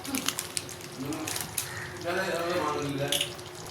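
Lentils (dal) being washed under a running kitchen tap, a steady wash of flowing water with faint clinks and a voice talking over it.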